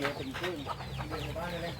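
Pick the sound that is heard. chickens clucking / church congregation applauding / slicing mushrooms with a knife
chickens clucking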